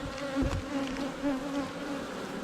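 Honeybees crowd an open top bar beehive, making a steady close buzzing hum with a few louder passes of individual bees near the ear.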